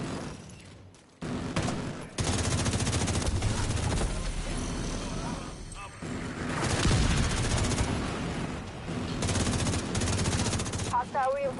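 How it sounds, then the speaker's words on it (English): Autocannon fire in the shooter game The Division 2, a long, loud, sustained burst of rapid heavy shots with a few brief gaps, plus some booming impacts. "The autocannon seems to be firing blind."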